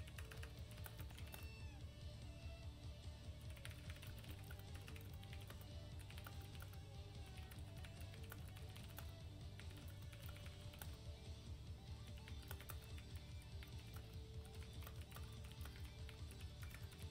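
Computer keyboard typing, a steady run of quick clicking keystrokes heard at low level over a dense bed of video game sound and music.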